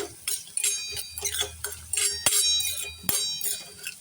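Salted onion being sautéed in a pan for matki usal, with a spatula scraping and clinking against metal in quick irregular strokes over a soft background sizzle, close up and without speech.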